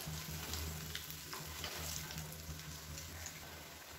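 A potato snack fries in hot oil, sizzling and crackling in a steady, dense bubbling that is close and fairly quiet, with small pops scattered throughout and no one talking.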